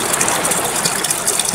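A waterfall rushes in a loud, dense, continuous roar of falling water, close and unbroken for the whole short moment.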